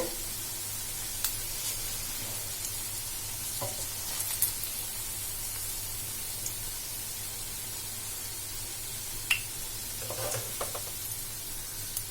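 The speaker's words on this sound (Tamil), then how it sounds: "நம்ம மீதி இருக்கதை இதே மாதிரி எண்ணெயில போட்டு ஃப்ரை பண்ணி எடுத்துடலாம்." Egg and cabbage evening snacks fry in hot oil, giving a soft, steady sizzle with a few scattered pops and crackles, close by, with no talking.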